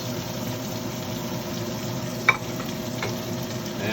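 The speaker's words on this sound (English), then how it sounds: "So now we're going to start adding our green peppers, our red peppers," Green and red peppers going into a pan for jambalaya, producing a steady moderate sizzle with one sharp knock partway through and a lighter tap later, no voices.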